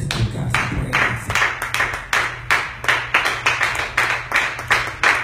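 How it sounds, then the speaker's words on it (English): A church congregation claps their hands in praise, loud and close, settling into a steady rhythmic beat of sharp repeated claps over a low hum. "Well, come on, clap your hands and give God some praise."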